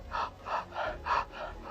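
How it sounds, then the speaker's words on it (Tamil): Open-mouth breathing exercise: five rhythmic, evenly spaced breaths, close and fairly quiet, with no talking. "வாயை திறந்துட்டு மூச்சு விடுங்க."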